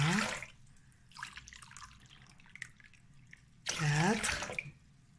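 Hot water poured into glasses, two separate splashing pours with a trickling stream between them, close and moderate in level.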